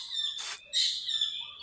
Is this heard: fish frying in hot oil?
no